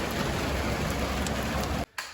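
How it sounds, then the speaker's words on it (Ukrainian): Steady rain falls outside, a dense close hiss of drops on surfaces that cuts off abruptly near the end. "Дощ притих, ну хмариться, виходю."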